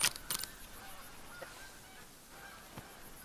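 A Canada goose call in a deer-hunting video game, a couple of sharp honks at the start followed by fainter honks against a quiet outdoor background.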